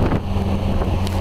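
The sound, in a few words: wind blowing in Timon & Pumbaa video game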